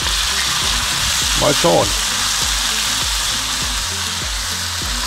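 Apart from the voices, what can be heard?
onions frying in a pan on a grill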